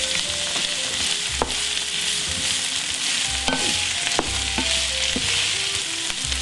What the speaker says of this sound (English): We're going to stir all that around, get it all nice and warmed up and caramelized